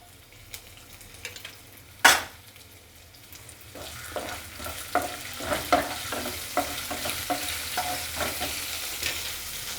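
Cumin seeds, ginger and a green chili fry in hot oil, a steady crackling sizzle with a sharp clatter near the start and then repeated stirring scrapes and pops building toward the end, with no voices.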